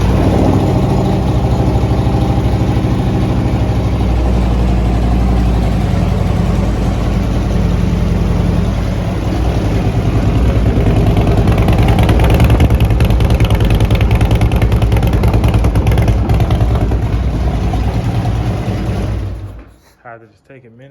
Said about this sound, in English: I had to just take a minute to admire how good this pipe and this motor sound.